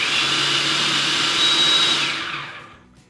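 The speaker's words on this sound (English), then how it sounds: "just blend that up until you get a nice little powder" Food processor grinding one cup of rolled oats into powder, a steady loud whirring roar that holds for about two seconds, then fades as the motor winds down.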